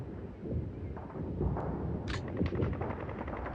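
Machine gun fire in the wargame Steel Panthers: World at War, a series of muffled, crackling bursts over a constant low rumble of battle noise, with a few sharper snaps near the end.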